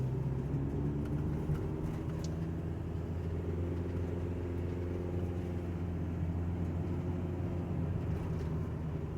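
A car climbing a winding, resurfaced mountain road beside cliffs on the Rip Van Winkle Trail in New York, giving a steady low engine and road rumble from inside the cabin, continuous and even with no talk.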